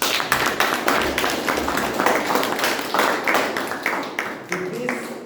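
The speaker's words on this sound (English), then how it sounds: "Now, a big round of applause for all of us." A small group at a Toastmasters meeting claps in a round of applause, distinct close hand claps at an uneven rhythm, with voices talking over and around them.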